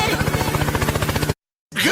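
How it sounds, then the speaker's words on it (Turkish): A video game helicopter gives a loud, rapid, regular rotor chop that cuts off suddenly, followed by a short burst of excited talking. "Helikopter helikopter."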